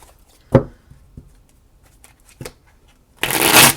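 Tarot cards with printed keywords handled close up: several crisp separate flicks and taps, then a dense, loud riffling shuffle at the end, with no talking.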